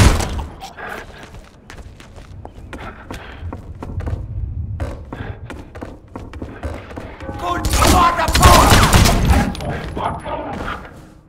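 Sniper rifle gunfire in the video game Wanted: Weapons of Fate, sharp thuds and shots scattered through a busy mix of game sounds, with a loud burst of impacts and shattering near the end.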